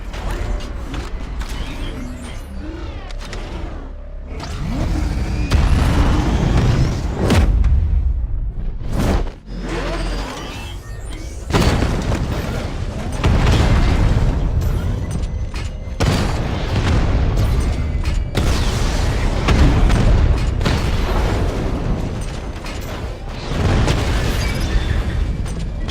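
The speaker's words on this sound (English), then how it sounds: "Your 60mm cannon will penetrate these heavily armored units, but it'll take a few direct hits to destroy them." Heavy armored tank cannon fire in the video game Batman Arkham Knight, with repeated loud booming blasts and mechanical creaking over a dense, continuous battle din of whooshes and rumble.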